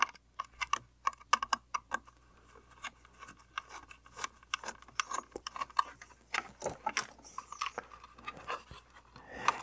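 A screwdriver backs out two small screws holding the circuit board of an EEW Nano 2 electric spinning wheel, making close, quick clicking and ratcheting taps in uneven bursts with short pauses.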